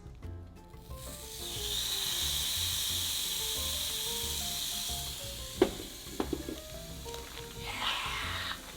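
A piece of creamy keto ranch chicken sizzling in a pan, a steady broad hiss that swells and holds beneath soft background music, with a few small pops and clinks near the end.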